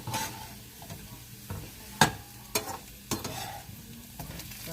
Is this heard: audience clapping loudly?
no